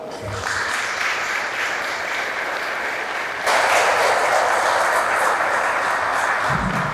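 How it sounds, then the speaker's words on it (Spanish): Wedding guests at a church ceremony applauding the newly married couple, steady clapping throughout that swells louder halfway and keeps going. "Vamos a darles un fuerte aplauso."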